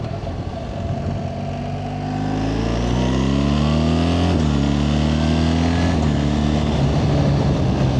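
A BMW R1300GS motorcycle accelerating with manual gear shifts: the engine note climbs steadily, drops at a shift, then rises again, loud and close with strong wind rush.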